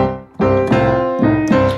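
A boogie woogie piano riff played up to speed, loud and close with bright repeated chords struck in a bouncing rhythm over a rolling bass line.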